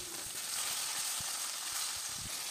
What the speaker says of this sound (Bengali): তেলটা গরম হলে মাছগুলো আস্তে আস্তে ছেড়ে দিলাম।